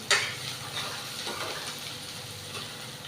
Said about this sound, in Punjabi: ਹਾਂਜੀ ਪਿਆਜ਼ ਆਪਣੇ ਭੁੱਜ ਰਹੇ ਹਨ ਜੀ